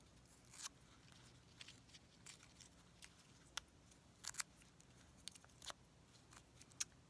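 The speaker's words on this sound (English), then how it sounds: "For both of these units, I'm simply going to remove the paper." Foundation paper is pulled off a paper-pieced quilt unit in short, quiet rips and crinkles, a scattering of sharp tearing bursts with pauses between them.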